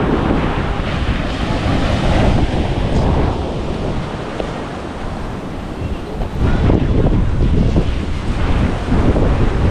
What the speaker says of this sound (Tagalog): Grabe ulit ang hangin Pakalakas. Lakas niya sa laot.